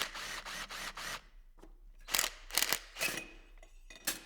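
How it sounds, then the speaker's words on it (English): A 12mm extended Allen key works the bottom base bolt of an Öhlins FKS 228 fork cartridge, giving several close, bright metallic clicking and ratcheting bursts separated by short pauses, with no talking. "take our 12mm extended Allen, hit the bottom base bolt"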